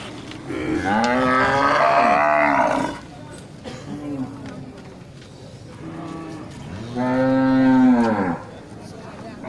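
Two drawn-out moos from a young male Aceh cattle calf close by, a few seconds apart, with quieter low sounds in between.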